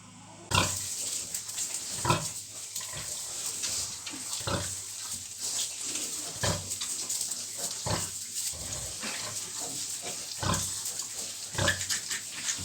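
A nursing sow grunts as her piglets suckle, low rhythmic grunts repeating every second or two, close and fairly loud over a quiet barn background.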